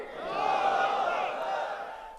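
A large crowd at a religious jalsa chants back in unison to the Nara-e-Takbeer slogan, a single sustained roar of many voices, loud and swelling then fading over about two seconds.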